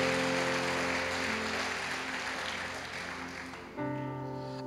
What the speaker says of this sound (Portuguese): Aplauda sim a Jesus